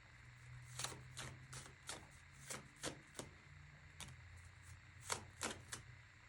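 A deck of oracle cards is shuffled by hand in a quiet room, giving a string of short, crisp riffling and tapping bursts at an uneven rhythm, close up and fairly soft.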